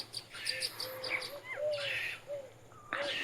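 A common myna calls near a nest where it feeds a koel chick with bread, giving short whistled and chattering notes at a distance, fairly faint over a quiet background.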